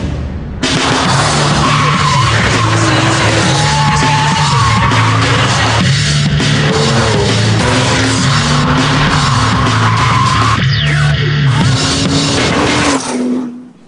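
A Porsche 911 GT2 sports car engine roars loud and close, its pitch climbing and dropping through gear changes while the tires squeal and skid during hard driving, sustained for the whole stretch before cutting off abruptly.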